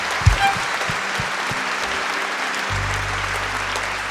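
Audience applause at a 60th-anniversary concert, a steady wash of clapping that carries through the clip at moderate level; a low held music note enters near the end.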